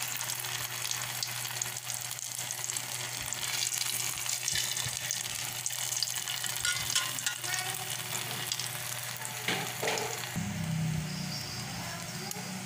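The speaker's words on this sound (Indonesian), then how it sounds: "Kita goreng dulu bentar terasinya." Shrimp paste (terasi) sizzles steadily in a hot pan while sambal is being made, with a continuous crackling fry and occasional stirring scrapes, and the sizzle shifts in tone near the end.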